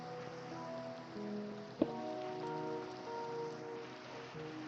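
Rain falls in a video game world as a soft, steady patter under a quiet game melody, with one brief sharp tap near the middle and no talk.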